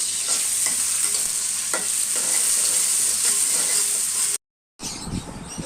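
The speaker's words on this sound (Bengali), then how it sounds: "এখানে যে আলু ভাজি করা হইতেছে" Potatoes frying in a pan for aloo bhaji, a loud, steady sizzle with a spatula stirring and scraping through them close up, broken by a brief silence before more frying resumes.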